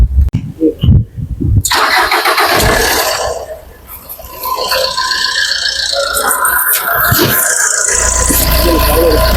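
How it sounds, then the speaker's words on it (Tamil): A 2013 Fiat Punto engine cranks briefly and catches, then settles into a steady, loud running idle that carries on to the end, with a few mechanical clicks along the way. "வண்டியோட இன்ஜின்ல பார்த்தீங்கன்னா எந்த ஒரு எக்ஸ்ட்ரா நாய்ஸுமே இல்லை, ரொம்பவே ஒரு பக்காவா இருக்கு."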